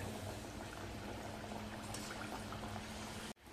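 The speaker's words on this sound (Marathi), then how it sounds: "आता मध्यम गॅसवरती वडे आपल्याला 4 ते 5 मिनिटं छान असे खरपूस होईपर्यंत तळून घ्यायचे." Chana dal vadas deep-fry in oil over a medium flame, a dense continuous bubbling hiss heard up close that cuts off abruptly near the end.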